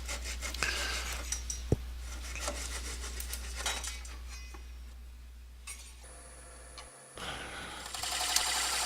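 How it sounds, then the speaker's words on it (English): A small hand saw rasps through wood to cut a thin natural edge bowl free, a steady scraping rubbing that stops near the end, followed by a faint clink and a hum. "I get my little hand saw out, and I cut this free"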